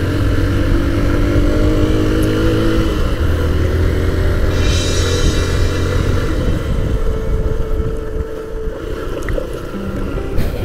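A motorcycle with drum brakes rides along a damaged hill road in Nepal, its engine a steady, loud, close drone under heavy wind rush, with no break throughout.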